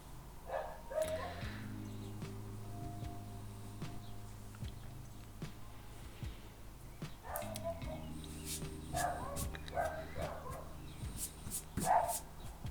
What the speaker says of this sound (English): Maybe it's all the fucking barking dogs.